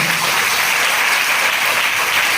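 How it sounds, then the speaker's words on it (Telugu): A church congregation at a temple anniversary service clapping loudly together, a dense continuous burst of applause with no talking over it. "చప్పట్లు కొట్టండి గట్టిగా"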